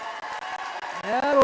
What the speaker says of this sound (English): Cheering continues here in Milford.